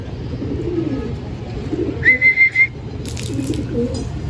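Pigeon making a few soft low coos in the background, joined by a brief clear whistle and a short splash-like burst.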